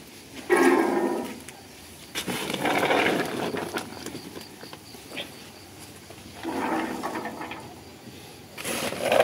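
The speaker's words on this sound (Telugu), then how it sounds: "ఎలక్ట్రిక్ మిషన్ తోటి మీరు ఫిట్ చేశాక దీన్ని ఎలా ఉపయోగిస్తారో ఒకసారి మాకు చేసి చూపిస్తారా?" An electric motorised coffee depulping machine running in Araku: a loud, close, rough mechanical churning that swells in irregular bursts over a constant background whir.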